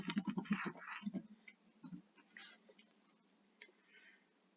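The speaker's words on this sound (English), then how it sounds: "Login credentials are typed in." Keys tapped on a computer keyboard while login credentials are entered, a quick burst of close clicks early on, then sparser, softer taps with faint murmuring in the background.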